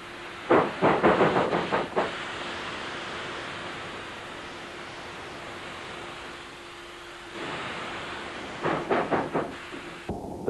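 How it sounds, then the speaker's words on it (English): A steam locomotive running through the Karoo on the Kimberley–De Aar line, with a steady hissing roar of steam broken by two bursts of rapid rhythmic chuffing, one near the start and one near the end. "the steam locomotives are still running today"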